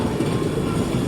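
Train wheels roll over the track in a brief, steady, moderately distant rumble with faint rhythmic clatter.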